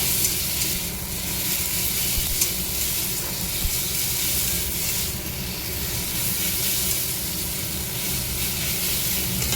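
Flour frying in hot oil in a pan, a steady close hissing sizzle with faint stirring, continuous for several seconds without speech.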